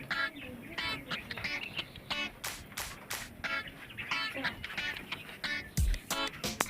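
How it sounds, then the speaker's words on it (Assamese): Ducks on a small home poultry farm in a garden quack repeatedly in rapid, overlapping bursts at close range, with faint background noise throughout. "এইকেইটা হৈছে বতা চৰাই।"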